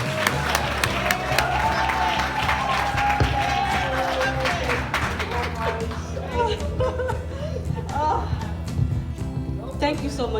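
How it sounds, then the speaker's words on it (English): A crowd at a corporate keynote event applauds as the speaker walks up, with clapping mixed with cheers, whoops and chatter, loud and continuous, while voices carry over the noise throughout. "give her a round of applause as she comes forward"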